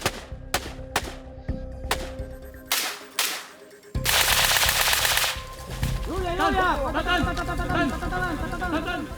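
Soldiers vocally imitating gunfire in unison to practice synchronized shooting, giving sharp, evenly spaced bursts followed by a loud, sustained chorus of voices with rising and falling shouted calls.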